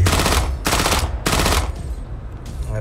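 Rapid bursts of mech weapon fire in the video game Mech Arena, three loud, sustained automatic volleys in quick succession, followed by a fainter short burst.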